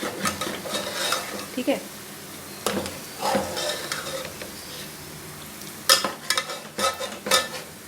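Food stirred in a cooking pot with a spoon, irregular scraping and clanking strokes over a soft background sizzle, with a brief spoken word.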